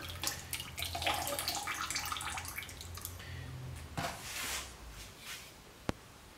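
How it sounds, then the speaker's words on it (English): Wet ceramic glaze drips and trickles off a freshly dipped pot into a bucket, a soft, uneven patter that tapers toward isolated drips, with one sharp click near the end. "let it drip there a few seconds, and then tip him over"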